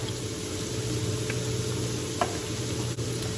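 Beef shanks are stirred in a pot with onion powder, garlic powder and thyme for a country-style dish, a steady close sizzle with a couple of soft scrapes of the spoon and no talking.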